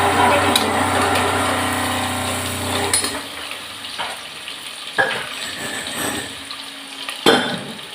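Onions frying in a pan for chicken gravy, a sizzle that fades and thins partway through, with occasional stirring knocks and scrapes nearby.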